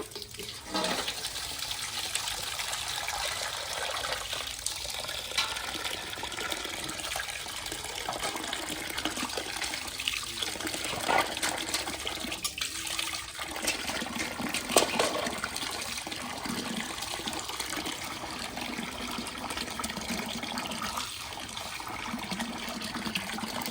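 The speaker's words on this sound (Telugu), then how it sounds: "చికెన్ అయితే శుభ్రంగా కడుక్కున్నామండి" Raw chicken is washed under running water, a steady faint splashing and trickling that lasts throughout with small irregular bursts and no voices.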